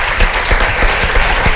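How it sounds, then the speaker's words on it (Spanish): Studio audience claps loudly for a guest on a Spanish television talk show, a dense burst of applause that holds steady through the moment. "Vamos a aplaudirle también a Andrés."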